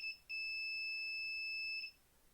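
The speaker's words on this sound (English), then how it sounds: "the buzzer sounds when we get to within a certain distance." An Arduino ultrasonic proximity sensor's electronic buzzer gives a short high beep, then a long sustained tone lasting over a second before cutting off as a wall comes within range. No one speaks.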